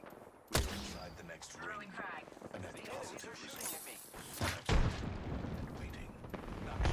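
Enemy gunfire in a video game: sharp, loud shot bursts and booms scattered among game effects, heard under a talking voice.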